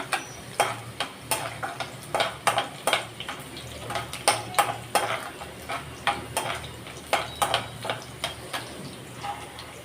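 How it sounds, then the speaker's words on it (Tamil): Garlic, then onion, sautéing in a pan for a bitter gourd curry, with a metal spoon scraping and tapping the pan in a steady, close rhythm over a low sizzle; no voices. "பூண்டை போட்டு கொஞ்சம் நல்லா வணக்கி விட்டுக்கலாம் அதுக்கப்புறம் நம்ம வெங்காயத்தை போட்டுக்கலாம்"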